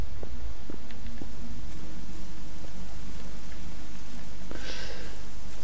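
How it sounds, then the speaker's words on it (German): Steady rain falls in the video game Generation Zero, a loud, dense patter on surfaces with scattered louder drops throughout. "Oh, jetzt regnet es auch noch wieder."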